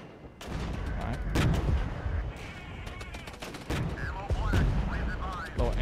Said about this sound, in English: I'm going to drop another round of artillery on it.